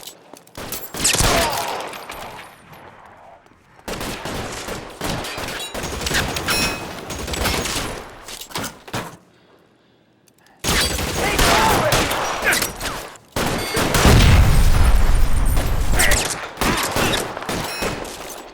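Bursts of gunfire crackle through a shootout in the L.A. Noire video game, loud dense volleys and rapid shots separated by short pauses, with voices speaking in between.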